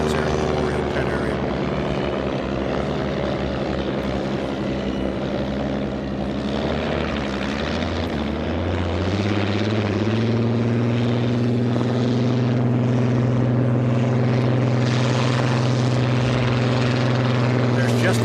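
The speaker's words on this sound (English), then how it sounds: "There's just that distinctive rumble to the Rolls-Royce Griffin." Rolls-Royce Griffon engine of the Miss Budweiser unlimited hydroplane at a Gold Cup race, a loud, steady, deep droning rumble whose pitch climbs as it passes near, with a commentator talking over it.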